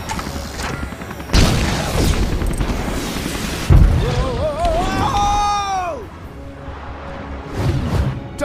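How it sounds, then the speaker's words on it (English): Explosive booms and blasts from a spaceship opening fire in LEGO Marvel Super Heroes, loud impacts mixed with descending laser-like whines and a game music score, with character voices in between. "I'm reading an incoming ship. Watch out! It's about to open fire!"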